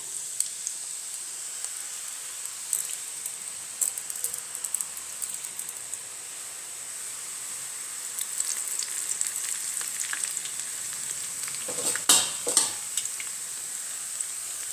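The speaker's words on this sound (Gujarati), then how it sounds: "આવી રીતના આપણે બધી સેવ તળી લેવાની છે" Gram flour sev frying in hot oil: a steady, moderate bubbling sizzle runs throughout, with light clicks and taps scattered across it and a brief louder clatter near the end.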